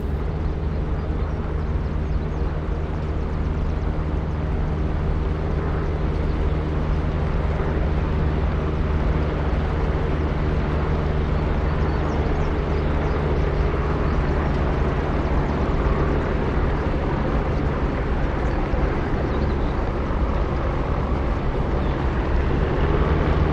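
A P-47D Thunderbolt's propeller engine idles and rumbles steadily as the fighter taxis in the DCS flight simulator, a continuous, loud, even drone with a low harmonic hum that holds throughout with no speech.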